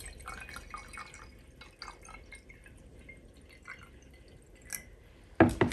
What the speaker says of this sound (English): I'm going to pour some in the vase